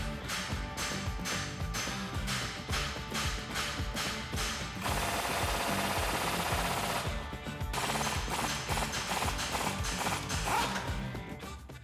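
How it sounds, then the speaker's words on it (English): Rapid metallic hammer blows strike a Jeep Wrangler JK ball joint in fast bursts, sharp and close, with a short pause in the middle before the striking resumes. "just take a hammer and strike the side of it"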